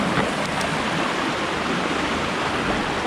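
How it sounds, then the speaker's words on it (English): Noisy stream water rushes and splashes steadily outdoors, a constant loud broadband roar with no pauses or voices. "Sorry about the noise of the water."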